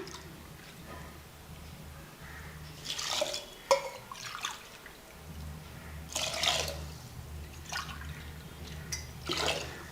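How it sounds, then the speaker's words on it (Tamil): Water is poured in short bursts into a pot of rice and urad dal, splashing and trickling up close, with quiet pauses between pours. "அரிசிக்கு ரெண்டு டம்ளர் தண்ணி ஊற்றிக்கலாம்"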